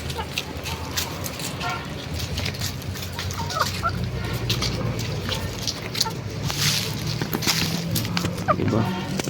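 Backyard chickens cluck repeatedly in irregular, overlapping bursts, close by, among scattered thin calls and rustling, while a person talks intermittently over the flock.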